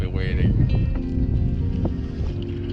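Strong wind roaring steadily at Half Moon Bay on a high-wind morning, buffeting the microphone with a dense low rumble throughout, while a person talks over it.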